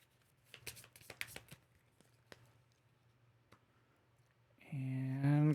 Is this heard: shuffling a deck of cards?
yes